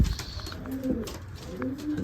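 Racing pigeons coo softly inside their loft, with low rolling coos repeating in slow overlapping phrases against a quiet airy background.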